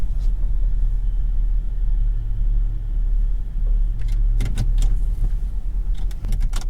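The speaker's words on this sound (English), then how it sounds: "Alright, let me park the car." A car engine rumbles low and steady while the vehicle is parked at a small post office in King George County, Virginia, with brief clicks and key-like jingles toward the end.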